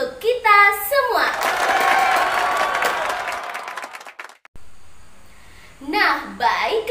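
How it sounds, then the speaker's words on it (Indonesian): Children clap together in a classroom during an Arabic reading lesson on introductions, a loud, dense burst of applause lasting about three seconds, with a teacher's voice just before and after. "Tepuk tangan untuk kita semua."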